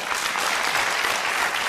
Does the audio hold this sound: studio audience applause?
yes